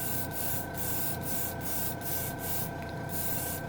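An airbrush blows plain air to dry freshly sprayed anodized-metal-effect paint, a steady close hiss with a faint whine running through it, broken by short rhythmic pauses roughly every half second.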